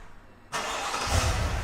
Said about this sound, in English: What you can do to start up the car is press this on the key